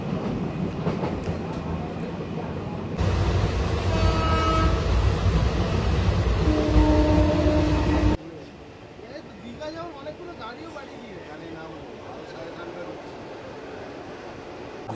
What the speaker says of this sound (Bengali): ট্রেন ছেড়ে দিল অলরেডি